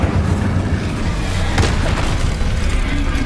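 An Incendio fire spell erupts in Hogwarts Legacy as a loud, close, continuous roaring blast with deep booming rumble and a brief burst in the middle.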